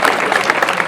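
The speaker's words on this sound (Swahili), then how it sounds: "Makofi." A brief burst of applause from an audience at a high school gathering, dense, fairly loud clapping heard for under a second with no speech over it.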